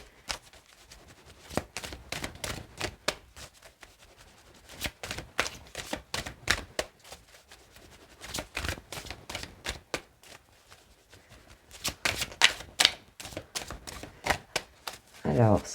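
Oracle cards from a deck of intuition cards being shuffled and drawn, a run of soft, papery riffling bursts and flicks that come and go across the stretch, close by and fairly quiet.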